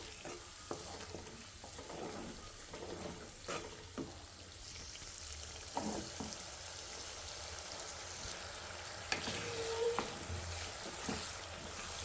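Ginger garlic paste fries in a pan while chicken pickle is being made, producing a quiet, continuous sizzle broken by occasional soft scrapes of a spatula, with no talk.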